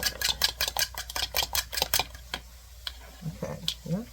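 A spoon stirs a mixture with a dash of ground turmeric, clinking against the bowl in a quick steady rhythm of light taps, then slowing and stopping while a person starts talking.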